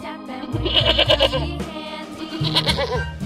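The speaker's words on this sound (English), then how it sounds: "Goat." A goat gives a couple of nasal, quavering bleats at close range, with quick vibrato, over soft background music.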